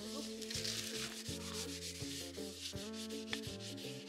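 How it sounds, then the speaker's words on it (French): An object is scrubbed clean with quick, repeated rubbing strokes that squeak and rasp in an uneven rhythm, close up and with no voices. "Juste une minute, le temps que je frotte."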